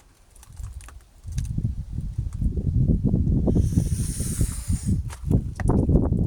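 Aerosol cleaner sprayed onto the MAF sensor of a Jaguar XKR, heard as one close, sustained hiss lasting about a second and a half, over heavy low rumbling and handling noise.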